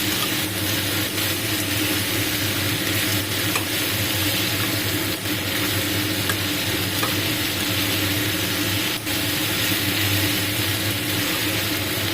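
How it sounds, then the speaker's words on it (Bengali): Prawns and chopped onion fry and get stirred in a pan, giving a steady, loud sizzle with scraping and clattering stir strokes throughout, without talk. "এবার এইভাবেই আমি মাছগুলোকে পেঁয়াজের সাথে নাড়াচাড়া করে"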